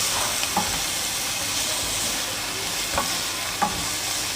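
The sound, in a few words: chicken and vegetables frying with spices, being stirred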